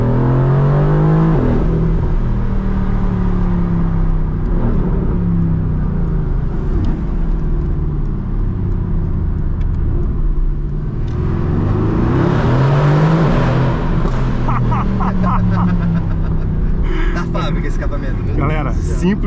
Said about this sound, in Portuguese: é um carro turbo, biturbo, na verdade, fazendo um barulho desse